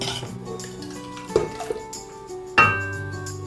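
A spoon knocks and scrapes around a pot of home-made rasam just after the pressure cooker has released its whistles, a few sharp metallic clinks and a louder clang near the end over quiet kitchen background.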